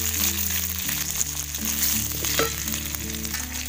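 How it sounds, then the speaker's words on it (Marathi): Vegetable pieces tipped into sizzling tempering oil with garlic and spice powder on a wood-fired chulha, a loud sizzle and crackle with steady low tonal hum beneath. "नंतर हे मके टाकायचे फोडणीमध्ये."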